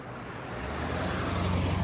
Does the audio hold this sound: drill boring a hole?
no